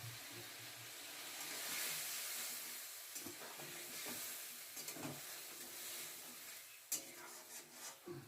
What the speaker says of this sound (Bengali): আবারও সামান্য একটু জল দিয়ে ভালো করে কষিয়ে নেওয়া হবে।